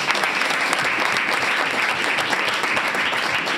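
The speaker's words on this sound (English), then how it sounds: "let's give a round of applause for James" An audience at a school district board of education meeting gives a steady round of applause, many hands clapping together at an even level throughout.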